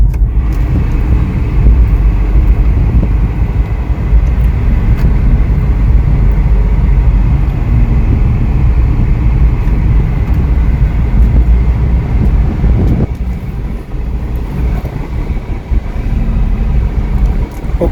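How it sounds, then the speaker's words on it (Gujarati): A 2016 Hyundai Grand i10 Asta (O) with a 1.2 petrol engine and automatic gearbox drives along, giving a continuous, fairly loud cabin drone of engine, tyres and road noise. "હવે જસ્ટ બ્રેક રિલીઝ કરશો એટલે કાર ઓટોમેટિક આગળ સ્ટ્રોલ કરવા મળશે"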